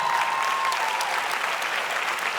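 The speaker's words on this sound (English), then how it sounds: "give them a big round of applause for helping out" A comedy club audience claps steadily and fairly loudly throughout, a continuous dense wash of applause with no voices over it.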